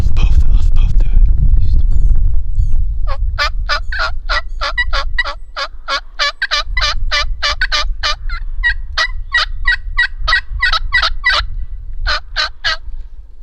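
A wild turkey tom in the Indiana woods gobbling in a long run of sharp, rattling bursts, loud and fairly close, over rustling and low background rumble, with a brief breathy sound at the start.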